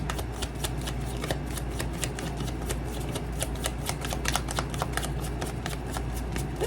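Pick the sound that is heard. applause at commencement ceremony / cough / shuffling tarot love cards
shuffling tarot love cards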